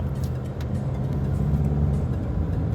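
Heavy road traffic crowded with long vehicles such as trucks and buses moves near a U-turn point, making a continuous low engine rumble and drone with a few faint higher noises and no speech.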